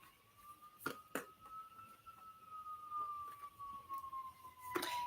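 An emergency vehicle siren sounds in the distance as one long, steady, slowly sliding wail, faint under scattered clicks and knocks nearby.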